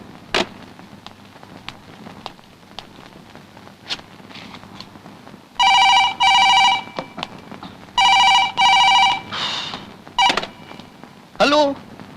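A telephone rings after a number is dialed: faint clicks come first, then two loud, buzzy double-burst rings, followed by a short voice.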